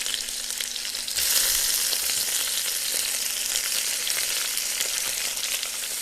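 Garlic and shrimp hit hot cooking oil in a pan for stir-fried noodles, a loud, continuous hiss and sizzle that jumps up after a second and holds steady, with faint stirring clicks and no talk.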